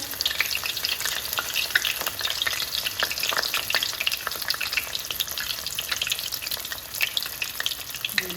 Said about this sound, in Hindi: चलिए हम अब दूसरा भी इसमें डाल देते हैं बहुत एहतियात के साथ, ताकि तेल की छींटे ना आए आपके ऊपर।